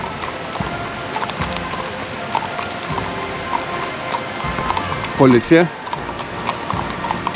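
Horses' hooves clip-clop on the road in Ribeauvillé, coming in a short distinct burst of clopping near the end, while voices talk in the background throughout.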